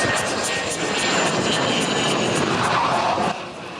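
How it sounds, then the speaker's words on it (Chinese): F-16V fighter jets roar overhead during a military exercise, a loud sustained engine rumble that fills the air and then drops off sharply near the end. "战机引擎声伫台东的天顶响起"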